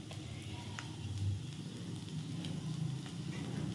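Whole spices sizzle gently in hot oil for a Bengali tempering (phoron) made for bhoger khichuri, a soft, continuous crackle with faint pops, close and steady throughout.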